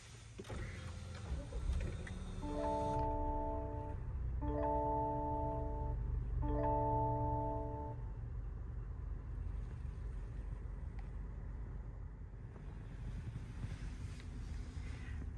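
A 2023 Lexus NX350 Luxury being started gives three short electronic chime bursts in steady succession over a quiet, low background hum, with no loud engine roar.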